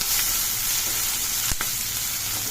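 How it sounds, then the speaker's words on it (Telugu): Moringa (drumstick) leaves fry in a pan with a steady, dense sizzle throughout, broken by one brief sharp crackle or pop midway; no one speaks. "మునగాకు ఇలాగా మనం ఫ్రై చేసుకోవాలి"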